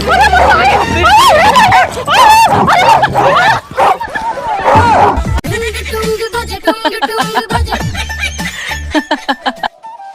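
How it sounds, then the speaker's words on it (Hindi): A stray dog barks and yips in quick bursts close by in a busy Indian household setting, its excited calls mixing with people talking before breaking into sharp, rapid barking. "कुत्ता आ रहा है पता नहीं किसका।"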